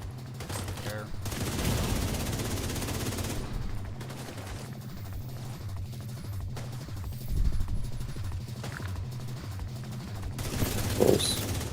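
Machine gun fire from a turret in a video game, long stretches of rattling automatic shots at moderate loudness, with brief louder bursts and intermittent talk over the shooting.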